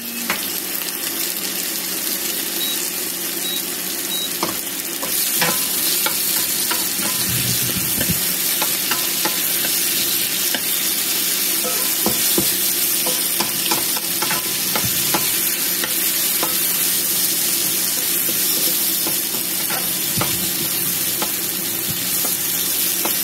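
Tomatoes fry with garlic in a hot pan, a continuous loud sizzle broken by scraping stir strokes from a spatula, close and busy throughout with no talking.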